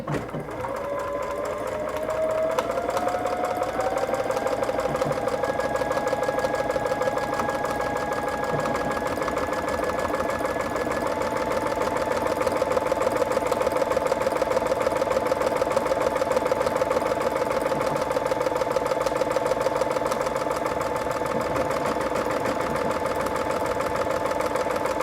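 A sewing machine in a sewing room runs a long automatic stitch cycle, a steady, close mechanical whir and hum that holds at an even pace throughout with no voices.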